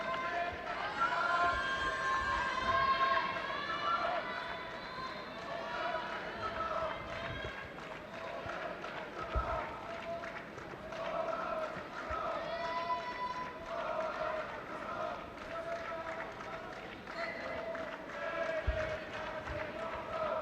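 A vocal crowd cheers at a women's -70kg judo final between Linda Bolder and Haruka Tachimoto, with a steady roar of shouts and calls underneath ongoing commentary.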